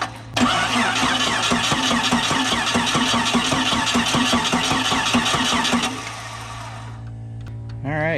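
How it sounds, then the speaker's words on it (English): A 1998 Jeep Cherokee XJ engine, pulled from a barn, turns over steadily with rapid rhythmic clunking for several seconds, then cuts to a lower idle hum with faint rattles, close and loud. "from up here I can hear a horrible clunking noise coming from the engine"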